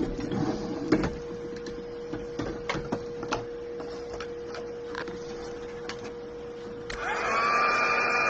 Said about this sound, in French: vous pouvez entendre au bruit que j'embosse à chaud